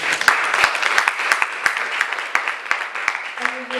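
A church congregation applauds with steady, fairly loud clapping throughout, while a voice rises briefly near the end.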